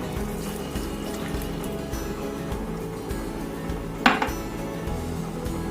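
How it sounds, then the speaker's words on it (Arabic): Tap water runs steadily into a large cup for croissant dough in a home kitchen, with a brief clink of the cup or dishes partway through; no talking. "هحط كوبايه ميه"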